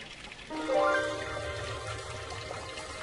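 Water running from Inca stone fountains fed by a mountain spring at Machu Picchu, a steady splashing flow with a brief brighter gush, heard up close and alone.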